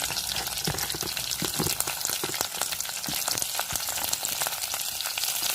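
Mustard seeds splutter in hot oil with curry leaves, crushed garlic, onion and green chilli for a horse gram gojju, a dense, steady crackle and sizzle close by, sharp pops scattered throughout, no voices.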